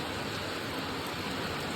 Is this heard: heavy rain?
yes